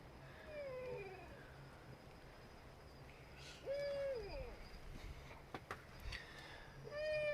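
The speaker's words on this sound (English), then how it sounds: "there's two owls talking to each other here." Two owls calling back and forth at night near an old camper in the countryside, a few drawn-out hoots spaced several seconds apart over a quiet, faintly rustling background.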